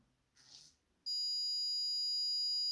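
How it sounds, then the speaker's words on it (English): Low-water warning buzzer on an automated plant-watering system with a pump, a steady piercing electronic tone that starts abruptly after a brief soft rustle and holds on continuously. "Eventually, the water level will rise too low and a warning and LED can be heard."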